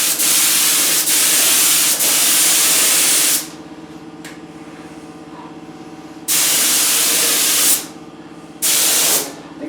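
A spray gun lays a finish coat on swamp ash guitar bodies in close, loud hissing bursts of a few seconds each, separated by quieter gaps with a low background hum.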